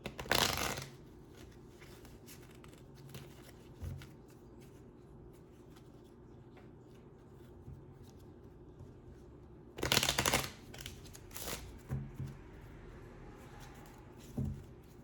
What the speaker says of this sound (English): this is the stress reduction deck that I'm shuffling currently